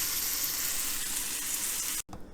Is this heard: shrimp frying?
yes